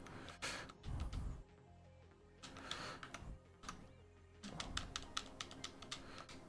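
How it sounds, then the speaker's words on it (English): Rapid, uneven clicking comes from a worn-out keyboard or game controller that is falling apart, with bursts of closely spaced clicks over a background of game music and no talking. "you might hear some clicking because this keyboard or controller is falling apart."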